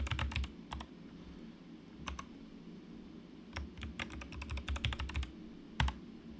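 Quiet bursts of typing on a computer keyboard as a password is entered while setting up a user account, with quick clusters of sharp key clicks separated by short pauses over a low background hum.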